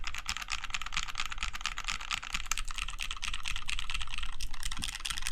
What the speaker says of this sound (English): another typing sound test here for it